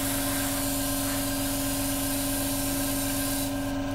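Airbrush laying very light, fine coats of paint onto a 1/32 Dragon P-51D scale model, giving a steady, even hiss that runs unbroken and close throughout, with a faint rubbing texture underneath.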